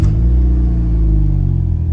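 A Vauxhall VX220 with a 2.2 litre engine fires up and settles into a loud, deep, close rumbling idle that stays steady throughout.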